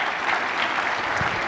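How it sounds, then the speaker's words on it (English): An audience at a conference presentation applauds steadily, a dense wash of clapping that stays loud and even throughout. "Give him a round of applause."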